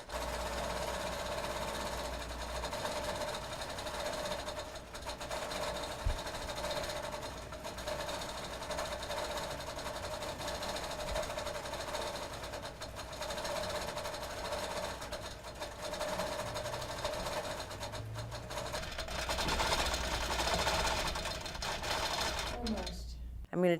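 A sewing machine stitching out a pattern fill area, running steadily with a continuous fast mechanical whir and rattle for the whole stretch.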